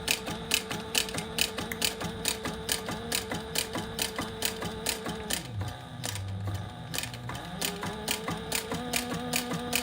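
A sewing machine stitches a double-sided leather piece with a long stitch length. Its regular, rapid mechanical clatter pauses once for a short low hum, then the even rhythm resumes, up close with no talking.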